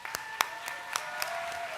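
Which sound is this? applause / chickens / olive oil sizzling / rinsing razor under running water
applause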